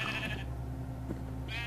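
Sheep in Minecraft give two short, close bleats, one at the start and one at the end, with a low steady hum between them.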